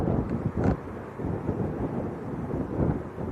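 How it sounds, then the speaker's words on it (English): Strong wind gusts across an airport runway at Leeds Bradford Airport, rumbling and buffeting the microphone as a loud, continuous low roar with sharper gusty bursts. "the wind is coming from right to left"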